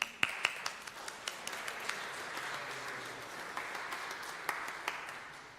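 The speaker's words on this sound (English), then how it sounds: "Now, let's give them an applause" Applause from a church congregation during a United Church of Christ congregational meeting, a soft, steady patter of many hands with a few sharper nearby claps, moderately distant and fairly quiet.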